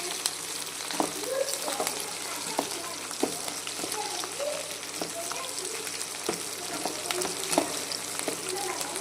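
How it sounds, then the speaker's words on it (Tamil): Dried red chillies sauté in hot oil in a pan for a tomato chutney, giving a steady close sizzle broken by scattered spatula clinks and scrapes as they are stirred, with no talking. "நான் வந்து காஞ்ச மிளகாவையும் போட்டுக்கோங்க. போட்டு நல்லா வதக்கிக்கிறணும்."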